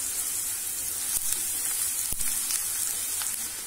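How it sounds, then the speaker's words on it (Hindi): Green chilies and onions fry in hot oil for a tandoori chicken malai tikka gravy: a close, steady, bright sizzle with a couple of brief stirring knocks and no talking. "हरी मिर्च डाल देते हैं कि इसका अरोमा आ जाएगा, इसका जो टेस्ट है तेल में आ जाएगा।"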